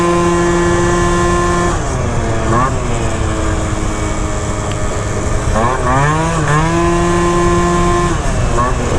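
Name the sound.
Phantom F12 70cc scooter engine revving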